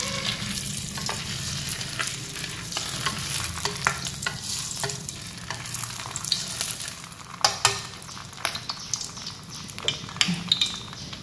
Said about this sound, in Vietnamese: Khi dầu nóng lên rồi thì mình sẽ cho bánh đa nem vào.